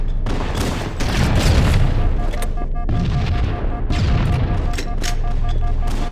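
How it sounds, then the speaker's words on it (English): In Halo MCC, repeated heavy grenade blasts and rattling gunfire crash together in a loud, continuous battle din, with several booming bursts close by. "Throwing grenade."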